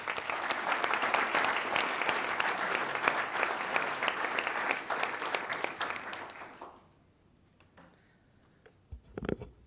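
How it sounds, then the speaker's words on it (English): An audience at a school recognition event claps for teachers, a dense, sustained round of applause that stops abruptly, followed by near silence with a few faint stray noises. "So please help me give them one more round of applause."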